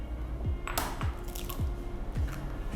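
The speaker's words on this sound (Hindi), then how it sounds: "पहले एक अंडा डाला इसके अंदर" Egg cracking into a bowl of sugar for coffee walnut brownie batter, a close, wet squish and drip with a few soft repeated plops in quick succession.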